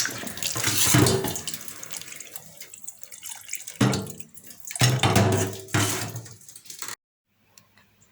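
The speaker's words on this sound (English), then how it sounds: "I've added some water to the potatoes" Water pours from a tap in bursts, splashing into a pot of sliced potatoes with changing intensity, then cuts off abruptly near the end.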